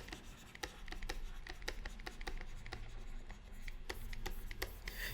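Pen strokes scratching across paper while freehand rotated boxes are drawn, a steady run of short, close scratchy lines with brief pauses between strokes, no voices.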